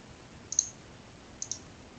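Two separate computer mouse clicks on a web page button, each a short, crisp double tick, close up and alone against a quiet background.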